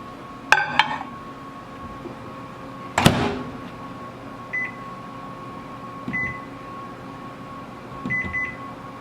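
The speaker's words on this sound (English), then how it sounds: "So I'll place this in my microwave to melt." A microwave oven hums quietly while melting vanilla candy wafers in a bowl, its door clunking open and shut, followed by several short electronic beeps from the keypad.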